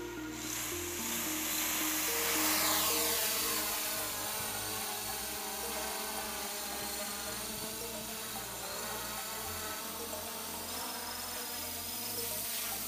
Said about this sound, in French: le drone est parti tout seul